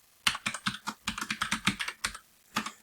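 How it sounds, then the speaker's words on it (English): Someone types a password on a computer keyboard during a PC server install, producing about a dozen crisp, close keystrokes in a quick, uneven run, a short pause, then one final key press. "So I'm just going to type in a password."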